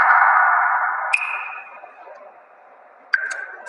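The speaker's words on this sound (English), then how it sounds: "Listen carefully to the different tones of water droplets here." Water droplet notification tones from Xiaomi's MIUI 10 phone software, heard as two short bright plinks with ringing, sonar-like tails, close and clear over a fading tone.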